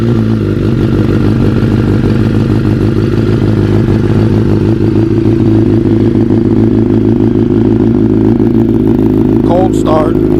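A 2013 Suzuki GSX-R 750 sport bike with an M4 Tech1 full track exhaust idles loud and close from a cold start, a steady throbbing rumble with slight clatter throughout; a brief voice comes in near the end.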